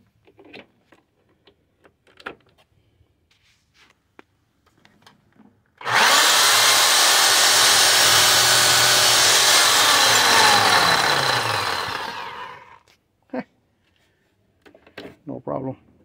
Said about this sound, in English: The Sawzall.